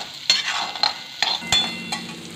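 Onions frying for kande pohe in a pan while a spoon stirs and scrapes it, a steady close sizzle broken by several sharp metallic clinks of the utensil against the pan.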